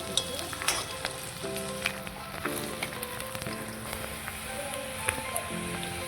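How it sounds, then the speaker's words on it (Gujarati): Pigeon peas hit hot oil in a pan while cooking a pasta dish, giving a dense, continuous sizzle with crackling pops and occasional stirring scrapes, steady and close throughout. "હવે નાખી દેવાના છે તૂરના દાણા"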